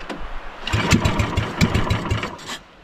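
A small gasoline engine starts up, sputtering in a quick run of pulses before settling briefly into a running putter, then cutting off near the end.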